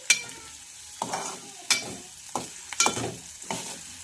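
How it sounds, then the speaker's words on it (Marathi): Chopped green chilies frying in a pan while being stirred, a soft steady sizzle broken by repeated sharp scraping strokes of a spatula at uneven intervals, close and without talk. "याला छानपैकी असं फ्राय करून घ्यायचं आहे"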